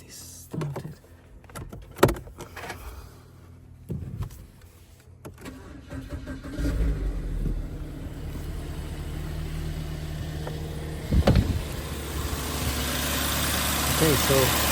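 A BMW E90 with an electronic water pump cranks and fires up after a few clicks and thumps, then settles into a steady, fairly close idle, with some speech heard early on.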